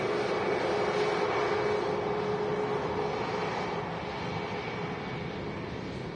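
An easyJet airliner on approach to Manchester Airport, its engines a steady broadband roar with a faint whine, loud and continuous throughout, easing slightly toward the end.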